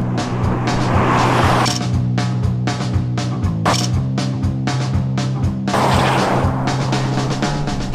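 A Kia and a Volvo electric car launch in a drag race, giving a continuous loud motor and road drone with rapid mechanical pulses and surges, heard up close without talk.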